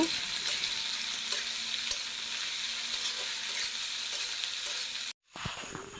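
Onions frying in a pan until they brown, a dense, even hiss of sizzling oil with faint stirring clicks underneath, steady for about five seconds before a sudden brief cutoff and a softer return.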